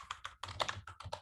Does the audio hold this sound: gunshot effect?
no